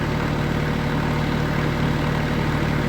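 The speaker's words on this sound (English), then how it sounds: "The only thing I don't like is it idles high. 1500 RPM seems normal." A Kioti CS2210 compact tractor's diesel engine idles high at about 1500 RPM, a loud, close, steady rumble that holds unchanged throughout.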